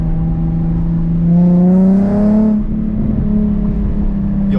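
A Nissan 350Z with a Y-pipe single exhaust revs up close, the tone rising to a peak and settling back into a rough, throaty idle.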